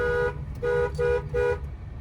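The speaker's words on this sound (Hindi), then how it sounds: "लॉन्ग हॉर्न ऐसे बजाते हैं" Car horn in city traffic sounding in three steady tones, one shorter then two held, each a clear sustained blare with brief gaps, fairly near and loud over low traffic rumble.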